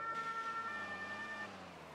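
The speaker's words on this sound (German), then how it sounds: "Dann gibt es noch das Schlaghorn." Schlaghorn emergency-vehicle horn in the Notruf 112 game, a steady tonal blare held for about a second and a half over vehicle rumble before cutting off.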